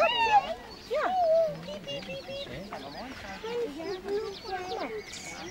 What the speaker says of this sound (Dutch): Een vogeltje. Ja, een kuikentje.